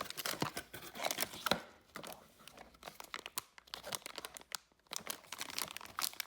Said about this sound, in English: Let's unbox it now.